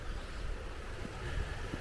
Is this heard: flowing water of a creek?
yes